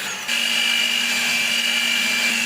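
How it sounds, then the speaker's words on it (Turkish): Electric mixer whisking one and a half glasses of milk for cake cream, a steady loud motor whine that starts abruptly and holds at a constant pitch. "Şimdi güzelce çırpıyoruz"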